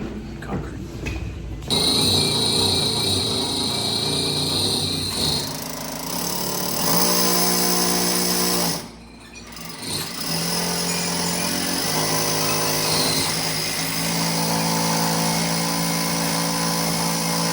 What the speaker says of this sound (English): be drilling in concrete.